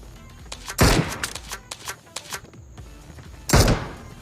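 Gunfire in the Free Fire mobile battle game: two loud, close heavy blasts several seconds apart, with a scatter of lighter rapid shots and thuds between them, no talking.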